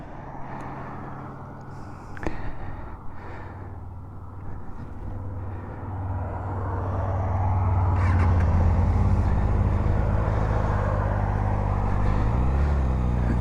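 A Kawasaki Ninja motorcycle heard from the rider's position, first idling with a sharp click, then the engine note swelling into a loud, sustained rumble as it pulls away and rides.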